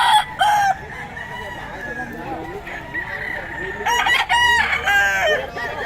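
Young roosters (stags) crow several times at a Philippine cockfighting market, the calls near and loud with clucking fowl around them; someone talks in the background.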